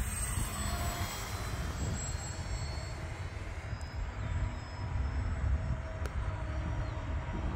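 An E-flite Valiant RC airplane makes a low pass, its electric motor a steady, droning whine with a light rushing wind noise, heard outdoors at moderate distance and without talk.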